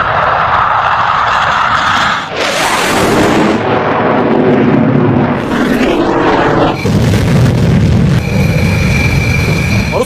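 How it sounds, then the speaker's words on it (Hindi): Rafale fighter jets fire missiles one after another, loud rushing blasts and booming whooshes overlapping heavy jet-engine roar, each launch swelling and fading in quick succession. "रफाल ने एक के बाद एक मिसाइल फायर करनी शुरू की"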